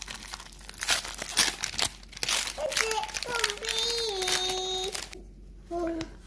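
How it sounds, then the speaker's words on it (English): Foil wrapper of a Pokemon XY Evolutions booster pack crinkles and tears open in bursts of crackling, with a child and an adult talking and exclaiming over it. "That means we open some Pokemon cards."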